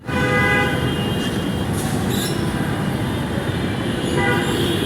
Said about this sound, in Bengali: এই মেট্রো আইতাছে, দেখতে পাচ্ছ?